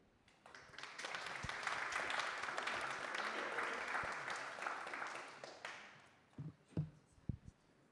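A conference audience applauds to welcome a speaker. The clapping builds quickly into a sustained, fairly distant wash that lasts several seconds and then fades, followed by a few scattered taps and knocks.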